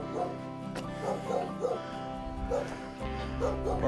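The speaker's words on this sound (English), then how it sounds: "Barking dogs, not a big fan." Several dogs bark and yip nearby at a house by Kaninë Castle, Albania, in irregular bursts, with some whimpering mixed in against a steady background hum.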